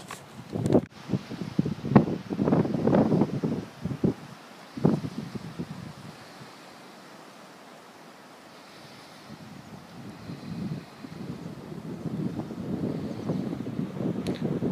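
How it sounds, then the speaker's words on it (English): Wind blowing through pine trees, gusting and rushing in loud waves with rustling, dying down to a quiet lull midway before building again, heavy wind buffeting close by. "I'm sure you can hear the wind blowing, and the pine trees are sure moving around"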